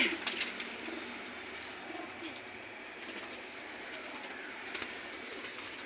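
Pigeons on a rooftop in Jammu's old city cooing softly, with a few wing flutters and faint background noise.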